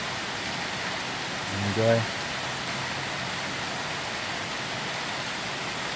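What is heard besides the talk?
rain falling in Tbilisi, Georgia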